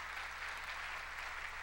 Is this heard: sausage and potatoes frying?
no